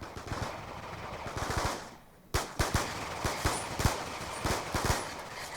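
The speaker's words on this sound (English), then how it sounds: "Swiftor Says, fire 1 clip into the sun" Video game gunfire, a whole magazine emptied toward the sky: dense automatic fire at first, a brief pause, then a string of separate rapid shots, fairly close and moderately loud, with no talk.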